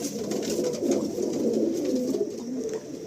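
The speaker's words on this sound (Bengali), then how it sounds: "কত সুন্দর সুন্দর কিছু পায়রা আছে দেখুন" Low, rolling coos from several pigeons fill a breeding male section of a big loft, continuous and close with no one speaking.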